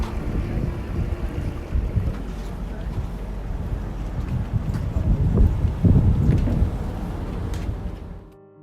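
A small passenger ferry crosses the Trave between Travemünde and Priwall on a windy February day on the Baltic coast, with a low engine rumble, water wash and heavy wind buffeting the microphone throughout.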